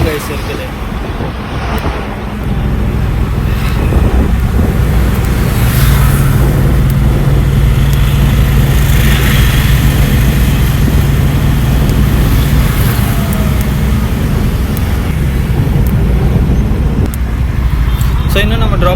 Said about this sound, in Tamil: இந்த டைமில் நல்லா டிராஃபிக்காக தான் கைஸ் இருக்குது.